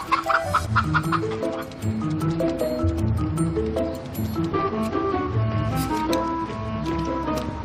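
Several chickens cluck and squawk nearby, a busy overlapping chorus of fowl calls running continuously.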